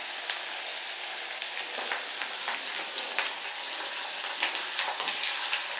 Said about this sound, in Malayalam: ഈ മുളകിൻ്റെ അരി ഉണ്ടല്ലോ, ഈ എണ്ണക്കകത്ത് പൊട്ടും, അതിങ്ങനെ ചാടിച്ചാടി വരും